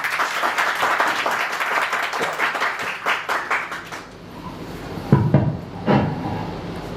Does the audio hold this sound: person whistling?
no